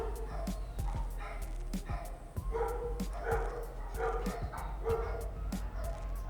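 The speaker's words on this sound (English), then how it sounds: "Dogs are barking so much right now." Several dogs bark repeatedly in short yipping bursts at a moderate distance, a steady run of barks with some whimpering over a low constant hum, with faint talk mixed in.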